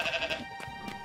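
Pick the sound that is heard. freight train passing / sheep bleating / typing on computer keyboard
sheep bleating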